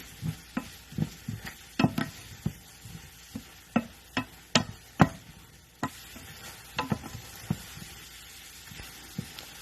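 Garlic being stirred in a frying pan, a series of sharp utensil scrapes and clicks at an irregular rhythm over a faint sizzle, close and moderately loud.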